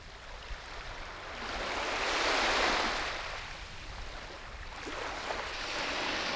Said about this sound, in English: the water's coming in behind me and I suspect it may be louder than me